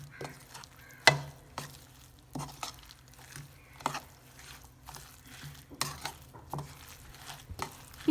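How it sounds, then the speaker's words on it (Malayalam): Egg and cabbage mixture with coriander leaves stirred in a pan, a spoon scraping and clinking in irregular bursts over a soft sizzle. "എല്ലാം നല്ലോണം ഒന്ന് മിക്സാക്കി കൊടുക്കാം."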